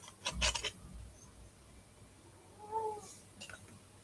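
A cat meows briefly and fairly close at a home in Cambodia, with a second faint meow shortly after, amid quiet room noise.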